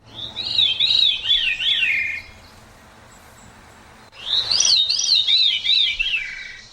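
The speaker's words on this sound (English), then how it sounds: "That pretty intriguing sound is that of our mystery bird" A bird calls twice, each a bright warbling, wavering whistle lasting about two seconds, separated by a short quiet gap; close and clear against a faint background.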